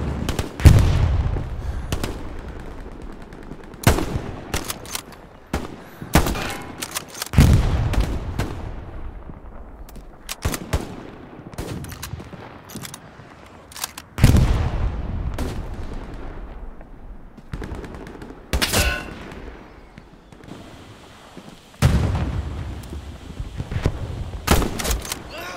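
Bolt-action rifle fire in the World War II shooter Hell Let Loose: a string of loud, sharp single shots spaced a few seconds apart, each with a booming report and decaying echo, with softer distant gunfire between.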